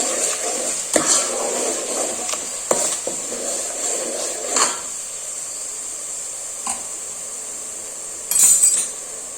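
Masala with ginger-garlic paste sautés in a pan for a chicken dish, a steady sizzle running throughout while a spoon scrapes and clinks against the pan in several distinct strokes, one louder clatter near the end.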